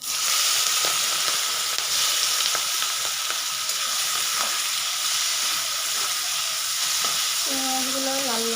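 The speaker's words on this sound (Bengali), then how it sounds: "এবার চিংড়ি মাছগুলো আমি এখানে ফেলে দিচ্ছি তেলের মধ্যে" Prawns dropped into hot oil and frying in a rustic village kitchen, a loud dense sizzle that holds steady throughout, with faint clinks of stirring and a brief tonal squeal near the end.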